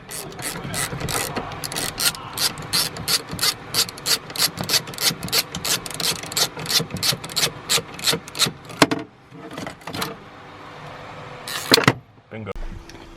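A ratchet spins off a 16mm bolt inside a BMW E36 interior in a fast, steady run of loud rhythmic clicks that stops abruptly, followed by a few clanks and a brief ratchet burst.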